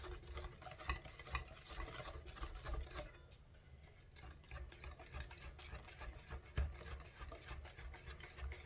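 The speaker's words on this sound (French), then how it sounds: "On mélange tout." Clafoutis batter with milk is whisked in a bowl, a continuous close scraping swirl that briefly softens midway before the brisk mixing resumes.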